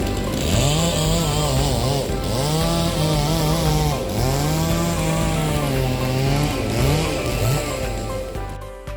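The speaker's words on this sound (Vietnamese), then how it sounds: "những người công nhân đang tiến hành đốn hạ các cây cao su và cưa nhỏ" A chainsaw roars close and continuously, its engine pitch rising and dipping as it cuts into felled rubber trees, with no one talking.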